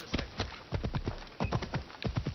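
A horse gallops in Assassin's Creed Odyssey, its hooves striking in quick, rhythmic clip-clop clusters, close and clear with no talking.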